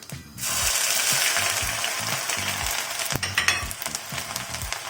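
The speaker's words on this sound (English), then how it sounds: "Oil is now hot. I'll start by adding some cumin seeds. I'll now add the ginger" Ginger hits hot oil already holding cumin seeds, and a sudden loud sizzle bursts in after a brief quiet moment, then hisses on steadily with clattering stirring strokes underneath.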